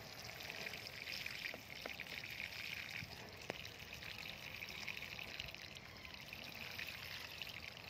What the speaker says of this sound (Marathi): पाणी घालायचं आहे आता थोडं थोडं।